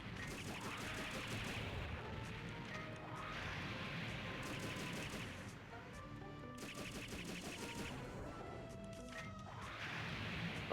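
Gunfire in the Robotech Battlecry video game: dense, rapid bursts and crashing impacts that run loud and almost without pause, with occasional swooshing sweeps.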